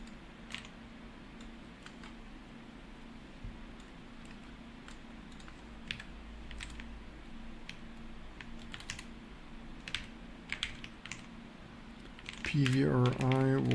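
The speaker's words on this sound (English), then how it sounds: "I need to type that." Rapid clicks of a computer keyboard being typed on in bursts, close and fairly quiet over a low steady hum, with a louder burst of other sound at the very end.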